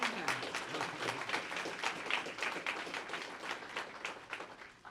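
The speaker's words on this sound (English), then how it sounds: "that deserves a round of applause" Applause from the audience at a police awards ceremony, a fairly faint, steady patter of many hands clapping heard from some distance, continuing evenly throughout.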